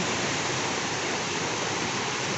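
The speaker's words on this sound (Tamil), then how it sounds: "ஏன்னா இப்போ மழை ஸ்டார்ட் பண்ணிடுச்சு" Rain pours steadily in a dense, even hiss of broadband noise, loud and unbroken throughout, with no voices heard.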